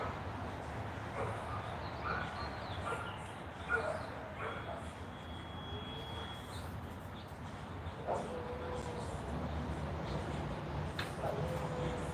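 Several dogs barking and whimpering, with scattered yips and soft whines off at a distance over a low background hum, faint throughout.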